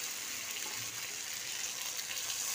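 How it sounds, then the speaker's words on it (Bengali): Water poured from a spice bowl into egg curry masala frying in oil in a pan, a steady splashing pour with a soft bubbling sizzle underneath, close and continuous. "মশলাতে তেল ছেড়ে এসছে, এবার এতে আমি জল দিয়ে দেবো।"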